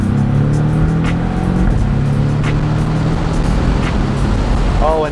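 A Porsche 718 Boxster engine pulls hard through its rev range, a loud, steady, close-up drone with strong low harmonics that holds without a break for the whole stretch.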